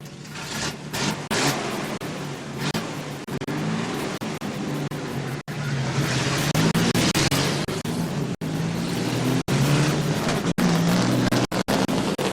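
Thunder Truck division mini trucks racing at Midvale Speedway, a loud, continuous roar of several engines blending and surging as they pass, with crowd-level ambience and brief sharp dropouts, no voices over it.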